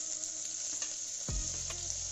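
Onion and tomato frying in a pot for one-pot rasam rice, a steady close sizzle with a couple of stirring scrapes and clinks partway through, no talk.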